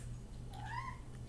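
A pet cat gives a single rising then falling meow, soft and close against a quiet room hum, lasting under a second with no talking.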